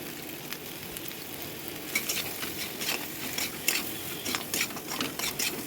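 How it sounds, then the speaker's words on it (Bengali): Vegetables for Bengali shukto frying in a pan with salt and turmeric, a continuous close sizzle and crackle broken by repeated spatula stirs and light scraping against the pan. "এটাকে ভালো করে ভাজবো"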